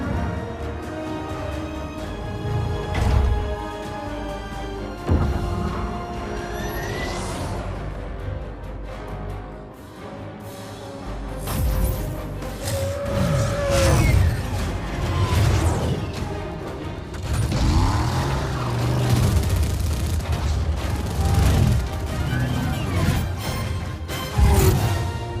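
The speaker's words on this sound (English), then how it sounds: "Archer missiles inbound." Archer missile strike explosions from the Halo Wars 2 strategy game: repeated loud booms and crashes over a dense layer of battle noise and music, spread across the whole stretch with no pause.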